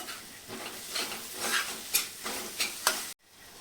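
A wild monsoon vegetable (olya birdyachi bhaji) is stirred in a pan after salt and sugar go in: a steady close sizzle with rhythmic spoon scrapes, ending in a sudden silence.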